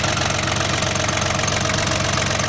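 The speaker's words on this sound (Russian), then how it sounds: "Трехцилиндровый дизельный мотор." A Yanmar FX18D tractor's three-cylinder diesel engine runs steadily up close, with an even, knocking rhythm and no talking.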